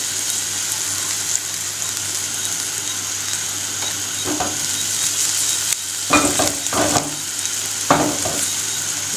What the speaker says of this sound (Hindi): ये देखें किशमिश हमारी अच्छे से फ्राई हो रही है।